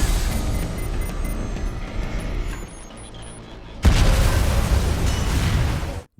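A bomb explodes in a heist film, with the device planted on seized weapons. A loud, sudden broadband blast cuts in partway through and roars on, following a dense stretch of rumbling action noise.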